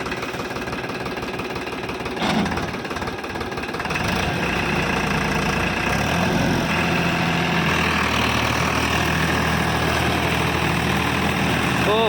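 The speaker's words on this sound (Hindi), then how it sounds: "तो अभी जो ना पहले किलो में चलवा के देखेंगे ट्रैक्टर को।" A tractor runs in first low gear across a sugarcane field, its engine a loud, continuous, steady rumble throughout with a brief clank near the start.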